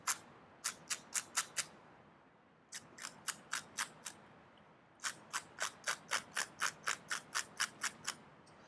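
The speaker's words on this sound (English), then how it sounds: "using a piece of sandpaper, and the grit of sandpaper isn't important here. We want to round over the corners." Sandpaper rubs over the corners of a razor blade in three runs of quick, even scraping strokes, each stroke a short crisp rasp, fairly faint with quiet gaps between runs.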